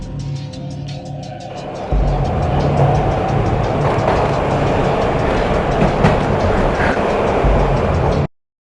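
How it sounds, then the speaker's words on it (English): A steady, loud rumble of a moving train in the video game Max Payne, with rhythmic clacking of wheels on track, continuous and close, ending abruptly. "This was my second train ride of the night."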